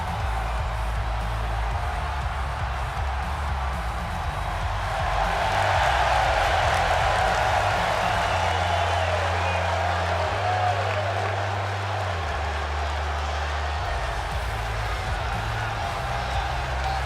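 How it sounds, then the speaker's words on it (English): A wrestling arena crowd in the WWE 2K25 video game roars and cheers continuously, swelling louder midway, with a commentator's voice talking over it. "The crowd on their feet."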